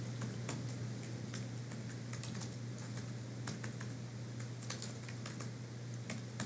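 Typing on a computer keyboard, a steady run of close, crisp key clicks at an irregular rhythm over a constant low electrical hum.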